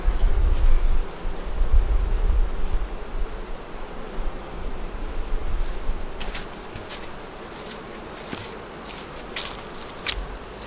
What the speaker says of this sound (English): the bees are coming home, because it's going to be getting cooler again tonight